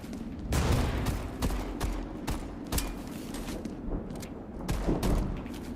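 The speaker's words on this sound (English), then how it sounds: "Grenade out." Gunfire and explosive blasts from a combat sequence in the video game Metal Garden, with a grenade going off among loud, repeated bursts and booms over a dense rumbling background.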